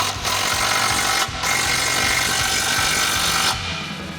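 A 15 mm socket on a power tool drives home the front support bolt of an AEV Dana M220 rear differential skid plate on a 2021-2026 Ford Bronco, giving a loud, steady mechanical whir broken by two brief pauses.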